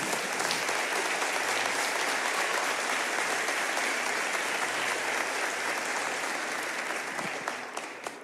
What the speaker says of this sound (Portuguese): Aleluia, pode aplaudir.